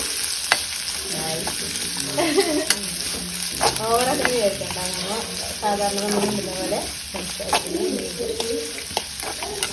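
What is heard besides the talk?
onions frying in oil for biryani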